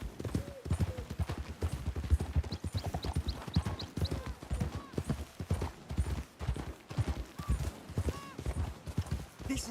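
Horses galloping in a story-driven video game, a steady clip-clop of hooves running close and continuous under the game's spoken dialogue and music.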